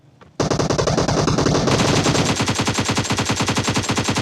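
In a shooter video game, an M762 assault rifle fires full-auto in a loud, continuous rapid burst of evenly spaced shots that lasts about four seconds, close and dominant, with no talking over it.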